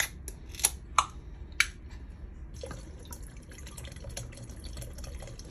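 Wine and pineapple juice are poured into a container for sangria, a few sharp clinks and drips followed by a steady faint trickle of liquid, close and quiet with no talk.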